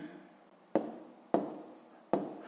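A pen scratches numbers onto paper in three short, distinct strokes, close and quiet, with no talking over them.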